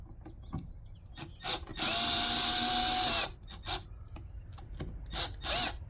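A power drill drives screws into a pedestal seat base on a Grizzly Tracker boat, with a sustained whirring burst of a couple of seconds framed by short clicks, knocks and brief trigger pulses nearby.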